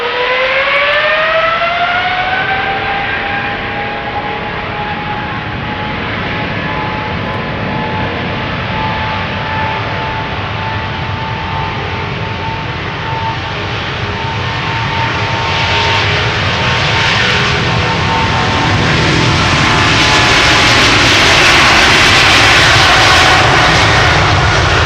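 A KLM Boeing 777-200 departs Amsterdam Schiphol, its jet engines loud and close with a rising whine that spools up into a roaring, broadband blast building steadily toward the end, with no voices.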